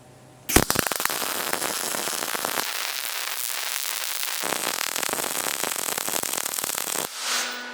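MIG welder running a tie-in bead to finish a seam, a steady loud crackling buzz with sharp sputtering pops that starts abruptly and holds for about six seconds before cutting off, with no talk over it.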